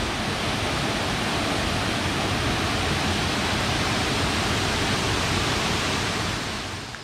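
A waterfall at Doi Phu Nang National Park with only a little water flowing, heard as a steady, dense rushing roar that fills the whole stretch and fades slightly at the end, with no voices.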